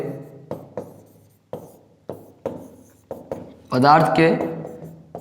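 Chalk or marker taps and strokes on a board during a chemistry class, a series of short, distinct knocks followed by someone talking over them.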